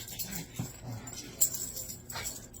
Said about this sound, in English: I got violence down here between two dogs trying to get attention